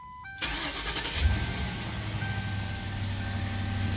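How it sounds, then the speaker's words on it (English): A 2006 car's engine cranks and fires up after a few ignition warning chimes, then settles into a steady low idle with a faint whine. "fire up the car, and give the brakes a few pumps"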